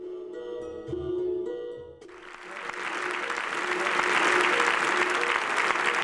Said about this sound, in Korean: 이제까지 접해보지 못한 새로운 시대의 관중들은 갈채를 보냈다.